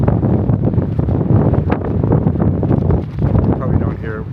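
Strong wind buffets a campsite in the mountains at Manitou Springs, Colorado, a constant loud roar with rough gusts and microphone rumble. A person talks over it.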